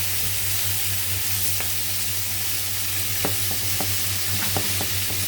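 Three-color bell peppers and shrimp stir-frying in a pan, a steady loud sizzle with a low hum beneath and scattered clicks of a utensil stirring, no voices.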